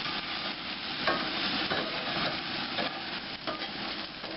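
Burgers sizzle steadily on a smokehouse barbecue grill, a continuous crackling hiss with a few clanks and scrapes as they're moved and flipped.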